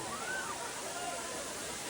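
Dharapalli waterfall pours over rocks with a constant, full rushing hiss that stays steady throughout, while a voice talks over it.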